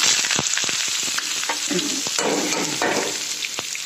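Garlic cloves drop into hot oil alongside green and red chillies, sending up a dense, loud sizzle with sharp crackles and spattering pops that ease slightly toward the end, with no one speaking.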